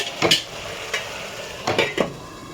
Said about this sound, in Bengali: এবার আমি ভালো করে মশলাটা কষিয়ে নেবো